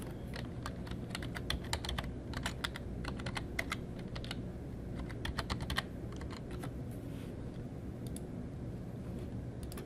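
Someone types on a computer keyboard, entering a login name and password. The keys tap quickly and irregularly, quiet but close, in short bursts over a soft steady hum.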